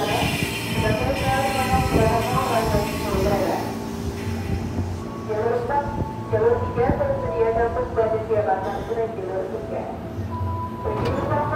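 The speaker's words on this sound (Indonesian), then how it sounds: "kereta api Argo Parahyangan akan melintas langsung dari jalur 4" An Argo Parahyangan passenger train rolls straight through Tambun station on track 4, a steady rumble with wheel and carriage clatter, overlaid by a loud, echoing Indonesian public-address announcement.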